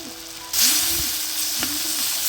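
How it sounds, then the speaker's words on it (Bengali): Spices with chili powder, turmeric and a little coriander powder sizzle in a pan as they are fried down for a curry, a loud steady hiss with a couple of stirring scrapes, no talking. "এটা খুব ভালো করে একটু কষিয়ে নিব"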